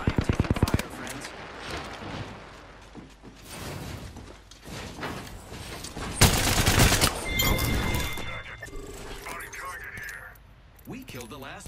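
Gunfire in the Apex Legends battle royale game, with bursts of automatic weapon fire and sharp shots from about 6 to 8 seconds, mixed with mechanical clicks and in-game effects that rise and fall throughout.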